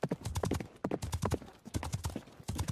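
A horse's hooves clip-clop in a quick, uneven rhythm, close and clear, with the clatter of many steps filling the whole stretch.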